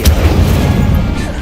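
Incendio fire spell cast in a Harry Potter video game, a loud, booming burst with a deep rumbling low end that fills the short moment.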